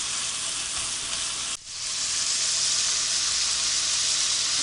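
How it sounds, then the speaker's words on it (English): Shrimp fry in a hot pan with a loud, steady, bright sizzle, briefly dipping for an instant as they are stirred, then resuming at full strength. "I'm going to cook the shrimp for a little bit longer"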